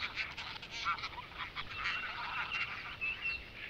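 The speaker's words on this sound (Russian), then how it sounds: "И не просто казарка, а казарка канадская." Canada goose on a pond in Belarus in spring, giving a series of nasal honking calls at moderate distance over a soft background hiss.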